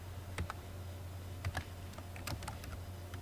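Someone types on a computer keyboard in quiet, irregular bursts of soft clicks, close and faint, with no voices over it.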